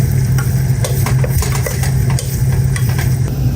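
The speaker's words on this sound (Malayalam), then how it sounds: "അപ്പോൾ നമ്മൾ ആദ്യം ഈ ഉള്ളിയെല്ലാം കൂടി ഇട്ടൊന്ന് നമുക്ക് ഇളക്കാം." Onions being stirred in a hot pan for chicken biryani, with a steady sizzle of frying under repeated scraping strokes of a spoon against the pan, close and fairly loud throughout.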